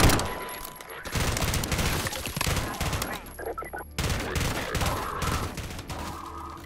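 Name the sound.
gunfire in the video game Garry's Mod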